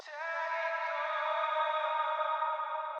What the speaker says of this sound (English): I have some extra reverb going on underneath just to kind of glue everything together